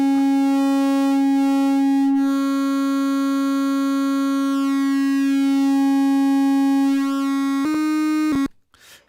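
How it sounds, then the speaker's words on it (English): A Eurorack modular synthesizer tone runs through a wavefolder with clipping distortion, giving a loud, steady buzzing harmonic drone that shifts briefly in pitch near the end before cutting out. "You can hear that clipping distortion coming in."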